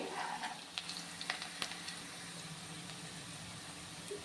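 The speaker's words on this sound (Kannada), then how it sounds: "ಇದು ಸ್ವಲ್ಪ ಫ್ರೈ ಆಗಲಿ." Masala with turmeric powder frying in a pan, a soft steady sizzle with a few faint clicks of stirring, quiet and close with no talk.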